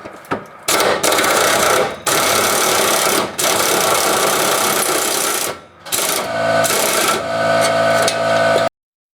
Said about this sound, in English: I'm going to take this other strap bolt off.